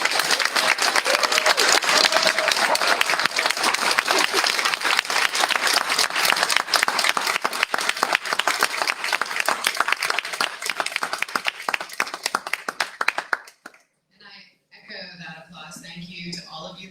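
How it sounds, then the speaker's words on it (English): Candidates at a congressional district forum get sustained audience applause, dense and loud, until it cuts off abruptly near the end and a voice begins speaking. "give a round of applause to all of our candidates"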